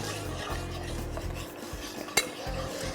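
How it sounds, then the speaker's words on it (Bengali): A white sauce for macaroni stirred in a pan while milk is poured in, giving a continuous scraping of spoon on metal with one sharp clink, close and steady. "আচ্ছা তাহলে আমি করছি, আমি এটা নাড়ি, আপনি মিল্কটা অ্যাড করতে থাকেন।"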